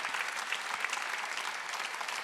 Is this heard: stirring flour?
no